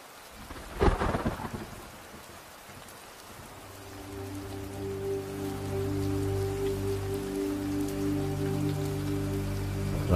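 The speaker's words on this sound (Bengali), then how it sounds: "ঝড় বৃষ্টি মনে হয় এখন থামবে না" A heavy storm at night: a sharp crack of thunder near the start, then dense rain building into a steady loud downpour with a low rumbling drone underneath, no voices.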